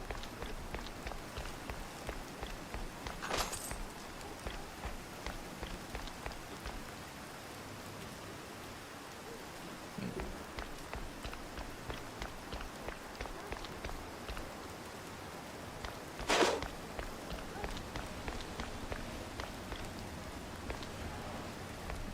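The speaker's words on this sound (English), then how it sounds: "Rain sounds nice." Steady rain patters all around in Mouse: P.I. For Hire, soft and even, with a couple of brief louder swishes along the way and no voices.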